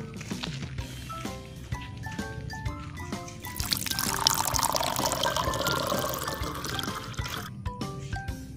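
A toy bubble water pistol being refilled with water, with a steady pour and gurgle in the middle surrounded by plinking, tinkling drips and taps, close and moderately loud.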